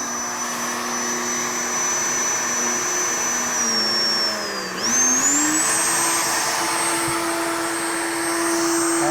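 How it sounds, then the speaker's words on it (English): A wood router runs at high speed while cutting along a template for a glass panel door, giving a loud sustained whine whose pitch dips briefly mid-cut and then climbs back and holds steady. "So we're going to turn the speed up on the router."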